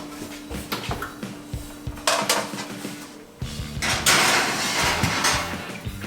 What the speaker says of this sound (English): I'm putting 2 pans in because I'm making my wife's pizza at the same time.